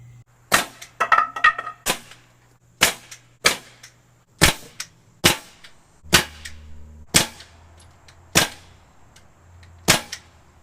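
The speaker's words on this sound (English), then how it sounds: "So I'm going to go ahead and start nailing these together." Pieces of a wooden coffee table base are nailed together with about a dozen sharp, loud cracks of a nail gun, irregularly spaced and close, with faint shuffling between shots.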